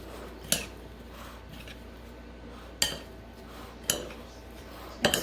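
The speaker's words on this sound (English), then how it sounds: "Mix it all together." Sweetener being stirred into strawberries and raspberries in a dish for a low-carb cobbler: a few sharp utensil clinks against the dish, spaced apart, close and fairly quiet, with no talking.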